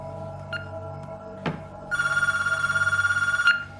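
A telephone rings with a steady electronic trill lasting over a second, near and clear, following a brief click and a short beep.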